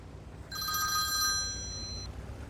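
A telephone bell rings once in a bright, sustained electronic trill lasting about a second and a half, close and clear over a low background hum.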